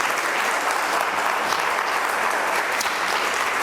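Dense, continuous applause from a church congregation during a sermon, loud and even throughout with no break or talk.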